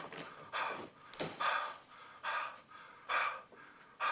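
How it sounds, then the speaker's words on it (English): Heavy, raspy breathing into a telephone in slow rhythmic pulls and exhales, several breaths in a row, close and alone with no words. "I shall commence my heavy breathing."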